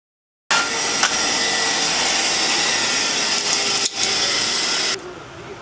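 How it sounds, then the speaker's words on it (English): A bench grinder touches up small metal pieces for a Harbor Freight 18-inch brake bender, giving a loud, steady abrasive whine for about four and a half seconds with a brief dip midway before it drops off. "I'm going to touch them up over here on the grinder."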